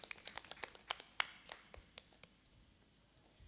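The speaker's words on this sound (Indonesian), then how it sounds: "Tepuk tangan untuk Reguse." Scattered, fairly faint handclaps from a small audience at an Islamic youth festival quiz final, a brief uneven patter of separate claps that thins out and stops.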